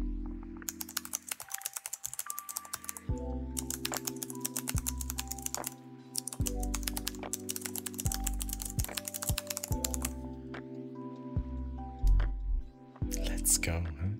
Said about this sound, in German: Mechanische Tastatur.